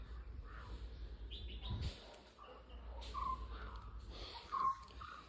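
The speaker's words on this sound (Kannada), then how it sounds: "ಬರೀ ಕೇಳಿಸಿದ್ರೆ ಏನಿದ್ರು ಪಕ್ಷಿಗಳ ಸೌಂಡ್ ಮಾತ್ರ ಕೇಳಿಸೋದಷ್ಟೇ ಇಲ್ಲಿ" Birds chirping in quiet Coorg countryside, with scattered faint tweets and short calls over a low background hum, no traffic nearby.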